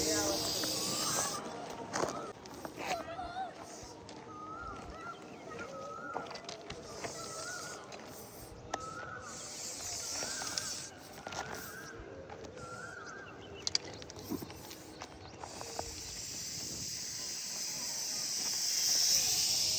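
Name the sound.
Russell's viper hissing as a warning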